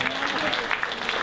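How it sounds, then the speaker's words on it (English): Brief burst of audience applause at a comedy magic show greets a volunteer coming up on stage, dense clapping over low crowd murmur, close and loud for just over a second. "A big round of applause for Dixon."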